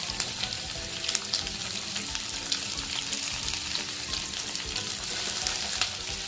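Potatoes with coriander leaves and ginger salt sizzle steadily in a hot frying pan, a close, even crackle with faint stirring and no voices.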